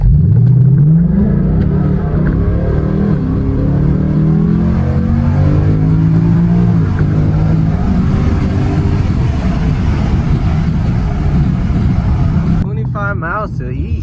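A Ford Mustang GT with an X-pipe exhaust revs and accelerates, its engine tone rising and falling steadily throughout, loud and close, with a voice speaking over it.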